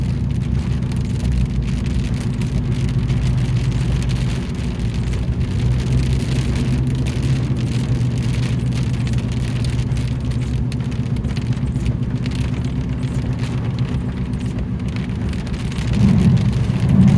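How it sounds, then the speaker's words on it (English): Heavy storm rain drums on a car in southeast Alabama, steady and loud over a deep rumbling road and engine drone, with no talking. "This is a lot of rain."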